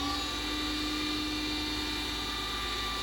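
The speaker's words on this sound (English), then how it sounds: "then we will spin the lathe up" A wood lathe spins a custom fountain pen blank of acacia and Alumilite resin, giving a steady, moderately quiet motor whine and hum that holds constant throughout.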